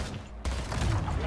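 A grenade blast in the video game Splitgate, a sudden loud burst after a quieter stretch, leaving a broad rumbling roar that lasts to the end, with a voice reacting over it.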